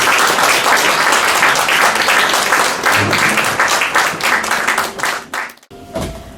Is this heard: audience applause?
yes